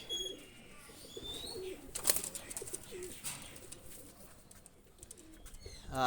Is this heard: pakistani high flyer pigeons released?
yes